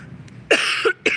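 Two harsh, close coughs in an airport, the second following quickly after the first, with a faint breath before them.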